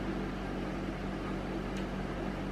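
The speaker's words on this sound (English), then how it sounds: "Excuse the noise of the boiler in the background." A household boiler runs in the background with a quiet, steady broadband hum and low tonal drone, continuous and unchanging, in a room where beer is being brewed.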